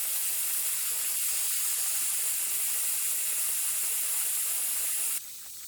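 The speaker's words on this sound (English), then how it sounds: "And now I can move this collar back to start releasing air." An ARB tire deflator releases air from a tire with a loud, steady, continuous hiss that holds for about five seconds, then drops sharply to a quieter hiss.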